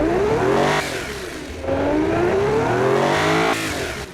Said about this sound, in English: Yeah, that sounds like a race engine.